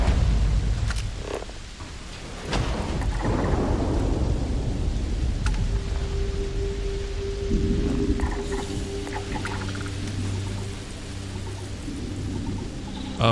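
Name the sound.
corrosive liquid thunderstorm in Starfield video game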